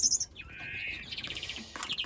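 A greenfinch cock bird in an outdoor aviary flight sings a lively song of bright chirps, trills and twittering notes, clear and fairly close, with no talk over it.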